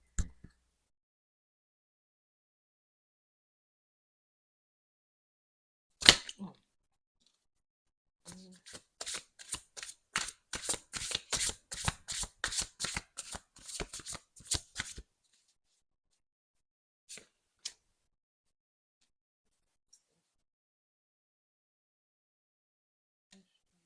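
Tarot cards being shuffled, a brief riffle early on followed by a long run of rapid, evenly spaced flicks and snaps, close and crisp in an otherwise quiet room, with a few isolated taps afterward.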